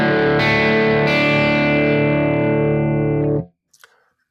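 A high-gain electric guitar tone from a Kemper Profiler rings out as one loud, sustained distorted chord that fades and cuts off after about three and a half seconds, followed by a brief faint noise.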